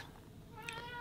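A domestic cat gives one short, faint meow that rises briefly, heard indoors over a soft background hiss.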